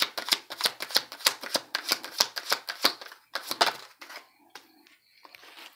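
Tarot cards riffled and shuffled in a rapid run of crisp, close slaps and flutters, then a few slower separate card draws and placements, with no talking.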